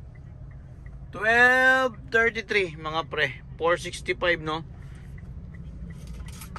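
Heavy car traffic on Quezon Avenue in Manila hums as a low continuous rumble underneath someone talking in short bursts.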